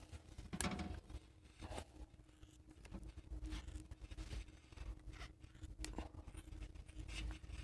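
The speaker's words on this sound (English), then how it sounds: "you're going to take the scissors, or you can use a razor knife, either way, and you're going to cut right down the center of the inner tube" Scissors cut down the center of a rubber inner tube being made into armor for motorized bicycle tires: faint, scattered snips and crinkles over a quiet background, with no talking.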